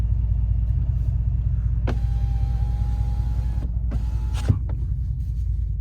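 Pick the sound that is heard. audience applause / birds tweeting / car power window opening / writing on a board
car power window opening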